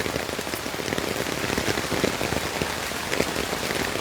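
Steady heavy rain patters on surfaces all around on a tea garden road, a dense unbroken hiss with scattered louder drops.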